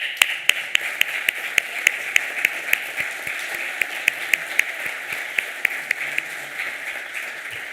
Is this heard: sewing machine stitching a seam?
no